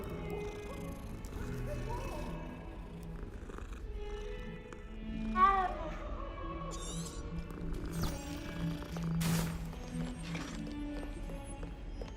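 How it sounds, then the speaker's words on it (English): A cat gives a couple of short, faint meows at moderate distance amid ambient background sound and soft movement, with no speech. "Gotta stop and pet the kitty."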